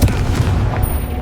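Bombarda or Confringo spell explosion in Hogwarts Legacy, one short, loud, deep blast with a rumbling tail, heard alone.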